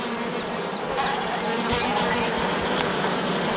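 Honeybees buzzing in an open hive during a colony check, a dense steady drone of many insects close by with occasional louder passes.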